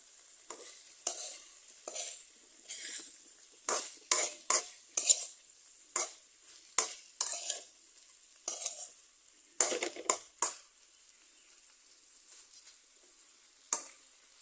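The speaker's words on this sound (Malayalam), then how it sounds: "ഇളക്കിയിട്ട് കൊടുക്കാം." Okra thoran being stirred in a pan, with a spoon scraping and clinking against the metal in irregular strokes spread across the clip, moderately loud and close, with no talking.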